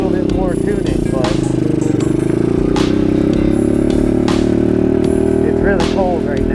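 A lightweight supermoto motorcycle's carbureted engine idles steadily and close by in cold weather, a continuous low buzzing drone with faint clatter, while someone talks over it throughout.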